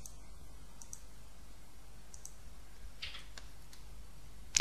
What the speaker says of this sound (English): I simply change the component name and click Save to Library.